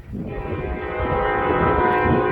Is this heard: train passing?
yes